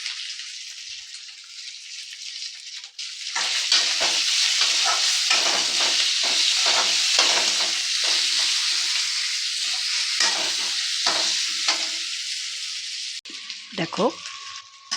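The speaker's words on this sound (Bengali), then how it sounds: "দেখো আলুটা দিয়ে একটু ভাজা ভাজা করে" Salted diced potatoes hit hot oil in a pan for sabudana khichdi, quiet at first, then a loud sustained sizzle with crackles and stirring scrapes, dropping away near the end.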